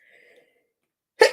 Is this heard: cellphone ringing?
no